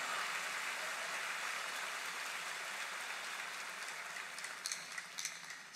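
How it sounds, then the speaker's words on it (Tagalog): A church congregation at a Sunday worship service breaks into sustained, fairly distant applause that holds steady, then thins into scattered claps before fading out. "Pag pera, malakas palakpak natin."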